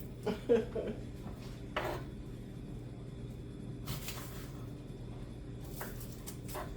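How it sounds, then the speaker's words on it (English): A knife chopping onions in a home kitchen: a few scattered, sharp knocks on the board with long quiet stretches between them, fairly faint, and no talking. "Get these onions chopped up."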